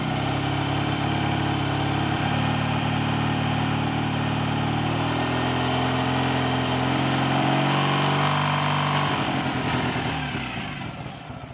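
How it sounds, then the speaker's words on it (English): A rebuilt BSA A65 T motorcycle engine runs steadily close by, a loud, continuous throbbing idle with a slight rise in revs, then settles and fades near the end. "it seems to be running well enough and sounding well enough"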